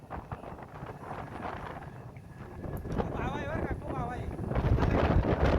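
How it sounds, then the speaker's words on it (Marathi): Strong wind on Ghodap Fort, a hill fort in Chandwad, Maharashtra, buffets the microphone in a continuous roar, rising toward the end, with a voice faintly heard beneath it. "एवढी वारा आहे, वावधान आहे"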